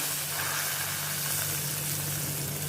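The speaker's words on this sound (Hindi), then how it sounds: "इसमें मैं ये सब्ज़ी में ये तड़का डालती हूँ।" Hot oil tempering poured into a besan curry sizzles loudly and continuously, a steady frying hiss with no voices.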